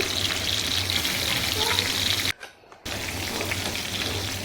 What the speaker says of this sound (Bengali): একটু হালকা করে ফ্রাই করে নিচ্ছি